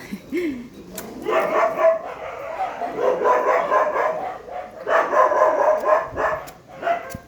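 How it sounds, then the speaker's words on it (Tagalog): Several dogs at a rural home in the provinces bark repeatedly in overlapping bursts, loud and close, with a brief pause before a second flurry of barking. "Marami kaming aso."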